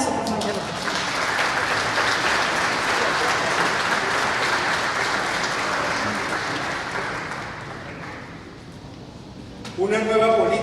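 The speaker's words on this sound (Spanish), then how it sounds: "Un aplauso, por favor." An audience claps through a long, steady round of applause at a Movimiento Ciudadano deputy's report. It fades slightly near the end as a voice begins speaking.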